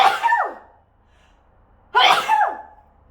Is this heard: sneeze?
yes